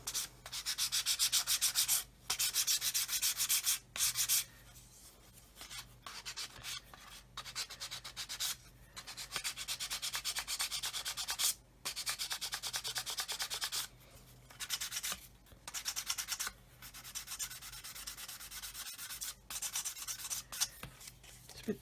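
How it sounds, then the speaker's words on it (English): A plastic model aircraft wing edge for a 1/48 Eduard Typhoon Mk.1b is sanded by hand in repeated rasping strokes, close and fairly loud, with short pauses between bursts. "if we just sand it flat, it's going to help"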